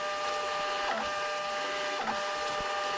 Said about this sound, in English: this is the best part about having a thermal label printer